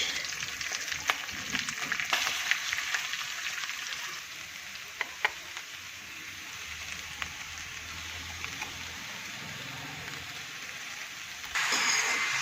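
Shredded cabbage with green chillies, turmeric and fenugreek seeds frying in a hot pan, a steady soft sizzle with occasional sharp crackles and stirring clicks, close and even, briefly louder at the end.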